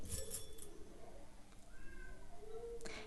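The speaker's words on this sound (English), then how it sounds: "Cats meowing" Cats meow in a home, several short, close meows scattered through the clip, with faint household clinks around them.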